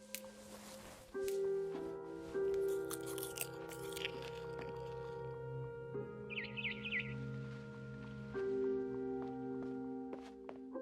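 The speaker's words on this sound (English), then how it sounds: "Then I heard chirping outside my window." A barn swallow chirps outside a window in the video game What Remains of Edith Finch, a brief cluster of quick high chirps rising over steady ambient music and soft crunching sounds.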